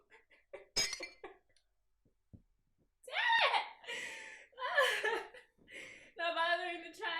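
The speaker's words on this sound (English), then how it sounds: "she swings her bag at the glass, breaking it" Glass window smashed by a swung bag, a visual novel game sound effect: a sharp crash with clinking shards around one second, followed later by laughing and voiced vocal sounds.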